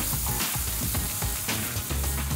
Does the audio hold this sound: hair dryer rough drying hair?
no